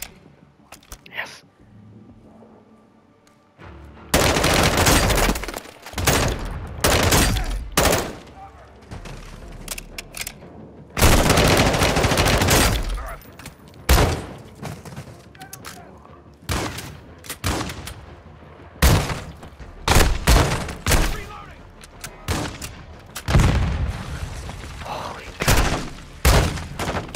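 Shotgun blasts in Call of Duty Modern Warfare II ring out in loud, irregular bursts, single heavy booms and clustered volleys separated by brief quieter gaps, mixed with other game combat noise.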